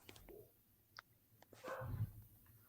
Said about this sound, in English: I hope my dogs aren't making too much noise here.